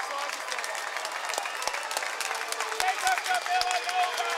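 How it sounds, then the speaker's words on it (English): Crowd at a Norristown Eagles high school basketball game applauding as the team comes onto the floor, a dense sustained clapping roar with scattered cheers and an announcer talking over it. "The crowd on their feet to salute their Norristown Eagles as they come onto the floor"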